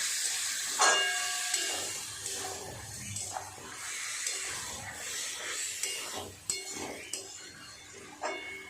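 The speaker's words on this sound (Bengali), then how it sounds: "একটু ভালো করে সমস্ত সবজির সাথে মশলাটাকে কষিয়ে নেব।" Vegetables and spices being fried together for a Bengali poppy seed curry, giving a steady close sizzle and hiss with scattered clinks of a utensil stirring in the pan.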